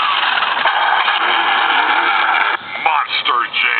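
A Grave Digger radio-controlled Monster Jam toy truck's motor whines steadily and loudly, band-limited and buzzy, then revs in short surges and dips near the end; people talk over it.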